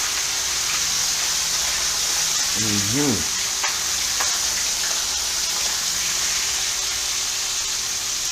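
Barracuda steaks sizzle and crackle steadily in a very hot pan, a dense continuous frying hiss with a few brief clinks and a short rising whine partway through.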